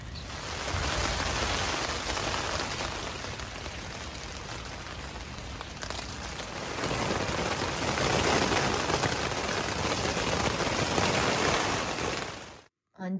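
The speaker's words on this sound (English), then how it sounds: "And it's raining again." Steady rain patters on a tent on the Appalachian Trail in Massachusetts, a dense continuous hiss of drops that swells slightly in the second half and cuts out abruptly near the end.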